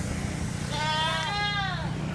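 A goat bleats nearby: one drawn-out, wavering cry that rises and then falls, with faint outdoor background noise.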